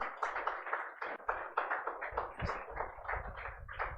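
A steady round of applause from an audience at the close of a CA Inter law revision lecture, dense continuous clapping at moderate level with no talk over it.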